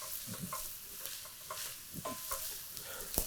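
Mushrooms frying in a pan for a scallop gratin, a faint, soft sizzle broken by a few scraping stirs, close and quiet with no talking.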